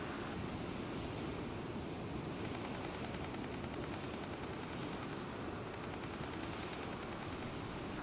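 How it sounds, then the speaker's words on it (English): Strong wind roars steadily across coastal sand dunes, a loud continuous rushing buffet with rapid fluttering bursts near the middle and end. "It's pretty windy, which is a bit of a problem"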